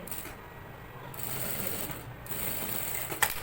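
Sewing machine stitching a lace edging along a garment neckline, running as a steady close mechanical whir with fine rhythmic clatter for the whole stretch and one sharp click near the end, no talking.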